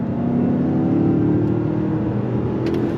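A 2025 Mazda CX-5 Turbo AWD accelerating hard through its 6-speed automatic, a steady engine drone climbing and easing in pitch as gears change, heard from inside the cabin.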